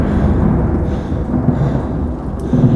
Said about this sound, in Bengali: আর ঠিক সেই মুহূর্তে আকাশ ছিঁড়ে এক কান ফাটানোর শব্দে বাজ পড়ল।